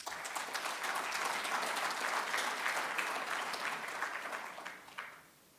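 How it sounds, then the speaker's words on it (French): Audience applause at an African health award ceremony, a steady dense clapping from a large crowd that holds for several seconds and then tapers off abruptly. "Merci de les applaudir."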